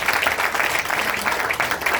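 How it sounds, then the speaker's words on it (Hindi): An audience claps in appreciation at a talk, a dense, steady round of applause from many hands that holds at a fairly loud level throughout. "गुप्ता जी के लिए एक बार तालियां चाहता हूं जरूर"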